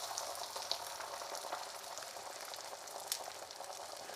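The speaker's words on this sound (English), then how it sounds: "And get the eggs cooking." Eggs frying in a pan give a steady, close sizzle with small crackling pops throughout, and no one speaks.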